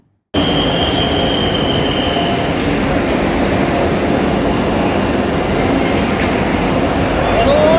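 A Vande Bharat train rumbles loudly and continuously, starting abruptly after a brief moment of quiet. A thin wheel squeal rises near the end.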